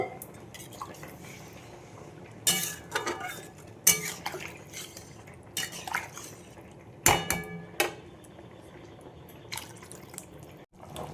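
Water poured into hot oil in a pan while cooking a boal fish curry, giving dripping, splashing sizzle with several sharp metallic clinks of a utensil against the pan, close and moderately loud, no voices.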